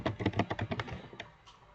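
Rapid keystrokes on a computer keyboard while a command is entered in a terminal, a quick run of close, crisp taps that slows to a few isolated clicks before stopping.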